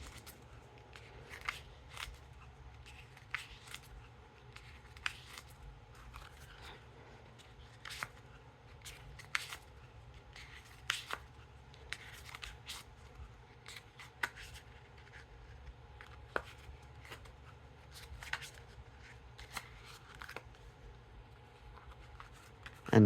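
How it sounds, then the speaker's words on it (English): A City of Mirrors playing card deck is cut one-handed over and over, producing soft, crisp card snaps and flicks scattered at irregular intervals, quiet and close with no talking. "now time for that one-handed cut"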